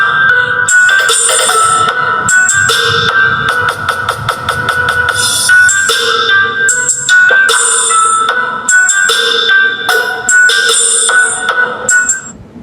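A test tone plays through a speaker driver unit wired with series bulb protection. It comes out as loud electronic beeping, with rapid repeated pulses and sustained tones, clear and close.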